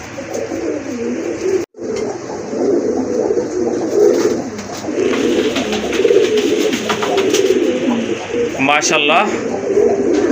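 Pigeons, including a sky-blue Rajgolla pigeon, coo steadily and close by, with soft wingbeats and a few chirps, while someone speaks over them.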